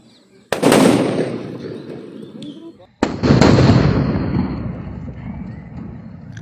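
Two large Diwali firecrackers go off one after the other, each a sharp, loud bang followed by a long crackling, rumbling tail that slowly fades, heard nearby outdoors.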